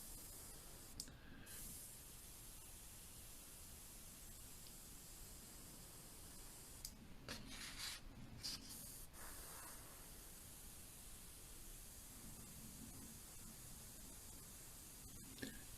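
Dye being sprayed onto a surface in very light coats: a faint, steady hiss of fine spray with a few brief louder bursts, quiet and close, no talk.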